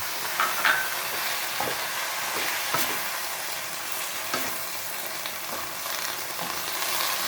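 Water spinach stir-fried over high heat in a hot pan with oil, a steady loud sizzle and crackle with scraping stirs throughout, no talking.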